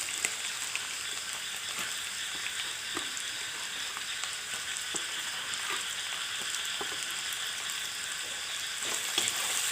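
Chopped tomatoes fry in a pan for chicken curry, a soft continuous sizzle with occasional light taps and stirring knocks, close but quiet, with no talk.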